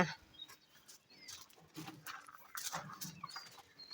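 Faint clucking of hens and chicks near a village kitchen in Kerala in the early morning, scattered short calls and chirps at a distance, with low background noise.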